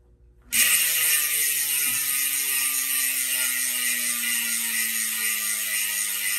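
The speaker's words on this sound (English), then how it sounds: "This is 54 tooth ratchet, not heavily greased." A DT Swiss 54-tooth bicycle hub ratchet, not heavily greased, freewheels with a loud, fast, steady buzzing click that starts abruptly and continues evenly, close up and alone.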